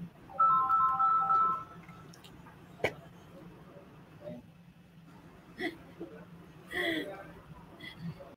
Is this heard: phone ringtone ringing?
yes